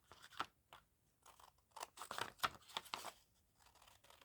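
Scissors snip and trim away white paper edging in a crafting session, a handful of crisp, close cuts with rustling in between and short quiet gaps.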